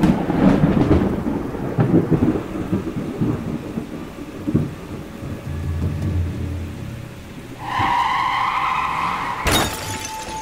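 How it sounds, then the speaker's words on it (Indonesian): Deep rumbling thunder rolls beneath a steady wash of heavy rain on a road in a storm, with a loud sharp crack near the end; a tonal horn-like blare briefly rises. "hujan lebat pun diterobos pakai motor. Sempat-sempatnya lagi nemuin banjir, petir pula."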